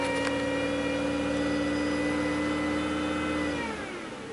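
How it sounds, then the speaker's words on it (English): A Pontiac Grand Prix with a 3.8 engine and a stall and misfire problem revs up and holds a raised idle, a steady, close engine drone with a tonal whine that eases off near the end. "So raise the RPMs a little bit."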